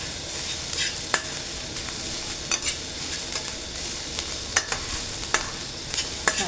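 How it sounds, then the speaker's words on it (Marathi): Onion fries in a pan with a steady sizzle, broken by scattered scraping clicks as a spoon stirs it now and then. "अजून थोडासा कलर चेंज होईपर्यंत कांदा आपल्याला छान भाजून घ्यायचा."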